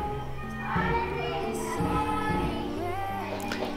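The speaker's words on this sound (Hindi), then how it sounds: "घर के बगल में एक स्कूल है जिसमें सुबह सुबह प्रार्थना होती है" Children's voices sing a morning prayer together at a nearby school, a steady sustained melodic chorus heard from a short distance at moderate level throughout, with no speech over it.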